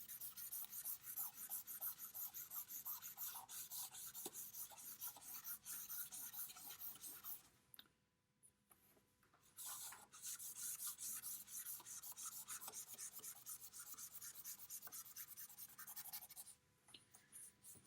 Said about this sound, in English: You're going to take the flat side of the vine charcoal, like when you used to rub leaves with crayons as a child.